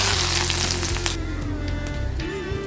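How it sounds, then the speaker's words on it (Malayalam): Finely chopped ginger sizzles and fries in coconut oil, a loud continuous crackle with bright spits and pops as the pieces are stirred in the pan. "ഞാൻ ഇഞ്ചി ചെറുതായിട്ട് അരിഞ്ഞു വെച്ചിട്ടുണ്ട്. നമുക്കിത് ഇച്ചിരി വെളിച്ചെണ്ണ ഒഴിച്ച് ഒന്ന് വറുത്ത് കോരാം"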